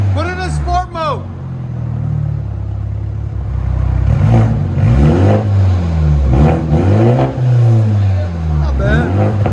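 A 2021 Toyota Supra GR with straight-piped dual exhaust revs in sport mode, a deep loud engine rumble rising and falling in repeated blips, with a voice speaking briefly at the start.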